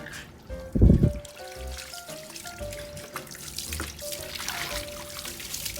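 Water sprayed into a tub holding African bullfrogs, a steady hissing, splashing stream with a louder burst near the start, running continuously at close range with no talk.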